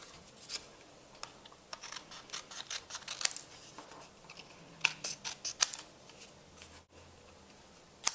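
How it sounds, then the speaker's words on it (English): Paper snips cut away excess paper in a run of quick, crisp snips, irregularly spaced and close, with small rustles of paper between cuts and no talking. "So I'm just going to take my paper snips and cut that off"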